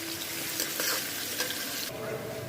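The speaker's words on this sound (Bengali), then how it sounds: "মাছটা ভাজা হয়ে গেছে, এখানে ভেজে কষাই নেব মশলা দিয়ে" Pangas fish head sizzling and frying with spices in a pan for a lentil and fish-head muri ghonto, a steady close hiss with soft stirring scrapes throughout.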